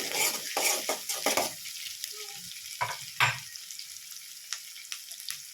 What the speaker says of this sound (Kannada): ಈರುಳ್ಳಿಯನ್ನು ಜಾಸ್ತಿ ರೋಸ್ಟ್ ಆಗೋದು ಬೇಡ ಸುಮ್ಮನೆ ಲೈಟಾಗಿ ರೋಸ್ಟ್ ಆದರೆ ಸಾಕು